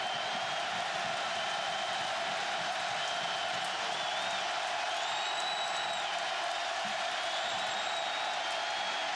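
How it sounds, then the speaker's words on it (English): Stadium crowd at a 2009 Clemson vs Florida State college football game roars steadily for the Clemson defense, a dense wash of distant cheering and whoops with no break throughout. "Crowd getting into it for the Clemson defense."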